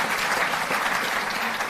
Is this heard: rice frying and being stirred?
no